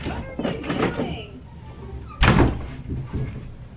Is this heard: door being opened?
yes